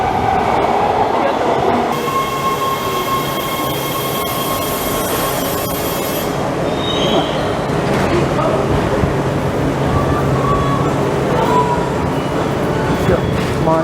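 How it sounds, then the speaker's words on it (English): A rail train ride in downtown Los Angeles rumbles with steady wheel and track noise and occasional squeals and clicks. A voice speaks briefly early on, and the running noise continues loud and close throughout. "we're going to take the train"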